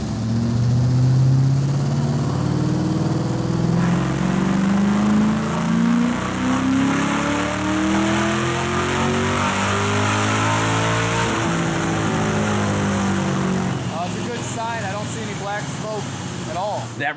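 A tuned Ford Cobra engine screams through a dyno pull, its note rising steadily through the revs and then easing off, loud and close with a roaring fan and blower whine, and voices talking over it.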